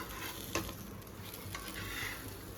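A paneer wrap sizzles steadily on a very hot tawa in a home kitchen, a continuous crackling hiss with a sharp tick partway through and no one talking.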